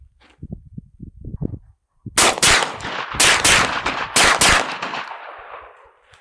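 Ruger PC9 pistol caliber carbine firing a string of sharp, loud shots in uneven bursts with echoing tails, after a few quiet handling clicks.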